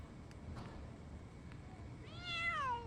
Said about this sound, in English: That's the same distressed meow that Shiro does.